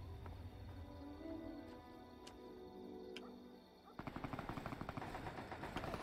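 Rapid assault rifle fire rattles out in Fallout's Tale of Two Wastelands, a fast evenly spaced burst starting after a few seconds of game ambience and music and continuing to the end.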